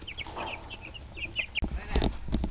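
Several meat chickens cluck softly nearby in short repeated notes on a farm, with some rustling and handling noise toward the end.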